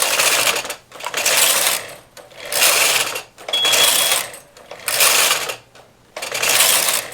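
A knitting machine carriage slides back and forth knitting a candy cane I-cord, making six loud rhythmic mechanical swishes and clatters with brief pauses between passes.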